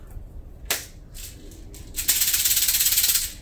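Dry rattling shakes of an egg shaker filled with dry macaroni: a couple of short scrapes, then a steady rapid rattle of hard little pieces tumbling inside, close up.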